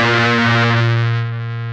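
A guitar played through an Electric Eye Cannibal Unicorn, an HM-2 style distortion pedal, rings out as one loud, heavily distorted sustained chord that fades slightly toward the end, with no talking.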